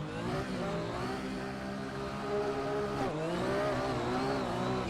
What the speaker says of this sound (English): Try to manage that tire spin.